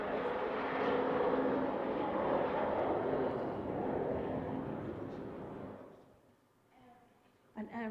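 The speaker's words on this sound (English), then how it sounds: "An aeroplane taking off?" An aeroplane taking off, a loud broad roar of engine rumble that holds steady for several seconds, then fades away into quiet, ending with a short knock.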